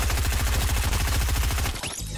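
Fast automatic gunfire in the Fortnite video game, a steady rattling stream of evenly spaced shots that runs for about two seconds, loud and close, then breaks off abruptly.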